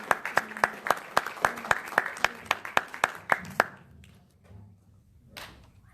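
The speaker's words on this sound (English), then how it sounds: "So let's give him a round of applause." A handful of people clapping at a small press reading event, a dozen or so sharp, evenly spaced claps close by for a few seconds before stopping, followed by quiet murmuring.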